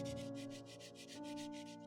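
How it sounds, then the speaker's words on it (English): A sandpaper stick rubbed by hand over a 3D-pen-made Minecraft sword, a quick, even series of about twelve close scratchy strokes in a steady back-and-forth rhythm over a faint background hum. "I followed it up with some hand sanding with the sandpaper stick."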